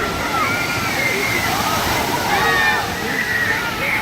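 A big bucket high on a water park structure tips and dumps water, a steady roaring splash and slosh heard from a distance while someone talks over it.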